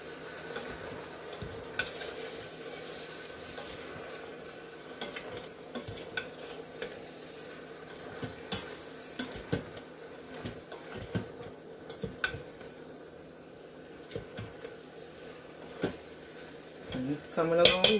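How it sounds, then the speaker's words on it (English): Intermittent clinks and scrapes of a utensil stirring chicken and noodles in an Instant Pot, soft irregular taps over a low background hum, with someone speaking between the strokes. "Let me stir this up."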